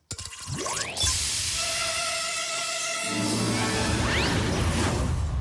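Cartoon spray-can effect for a slimming spray: rising whistle-like swoops, a sustained hissing spray with a steady tone, then a second quick swoop near the end, all loud and continuous with no talk.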